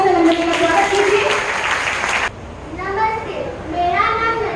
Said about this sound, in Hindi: बच्चों जोरदार तालियों से नंदिनी का स्वागत कीजिए।